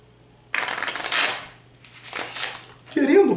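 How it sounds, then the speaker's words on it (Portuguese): A magician thoroughly shuffles a deck of playing cards during a card trick, with two loud, close riffling bursts separated by a brief pause. A quieter ruffle follows, with no talking. "pegar esse baralho e misturá-lo bem"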